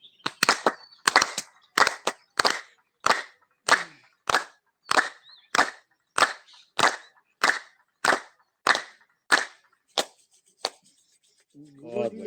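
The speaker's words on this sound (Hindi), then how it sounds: "ताली बजा लेते हैं 15 बार।" A group in a yoga session claps hands about fifteen times, sharp steady claps in an even rhythm, loud and close, with nothing else under them.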